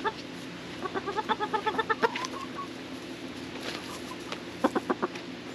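Homestead chickens clucking in a rapid run of soft, evenly spaced clucks, then a quiet pause and a short second burst, faint and close by.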